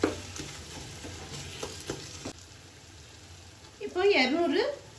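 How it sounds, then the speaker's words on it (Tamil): Tomatoes and masala sautéing for mutton biryani, with several scraping stirs over a gentle sizzle for a couple of seconds, then quieter frying as a voice talks near the end. "நல்லா தக்காளி சாஃப்டாக ஆகிற வரைக்கும், மசாலா வாசனை போகிற வரைக்கும் நல்லா வதக்கிக்கோங்க"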